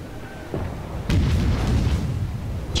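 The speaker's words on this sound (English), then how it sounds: "Get shot at from my multi-millionaire guns." Warship guns firing in World of Warships, a muffled shot followed by a heavier booming salvo that rumbles on over continuous engine and sea background, moderately loud.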